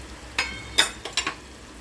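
Onion-garlic masala frying in oil in a pan, with a low sizzle beneath four or five quick, sharp scraping strokes of a spatula, close and moderately loud.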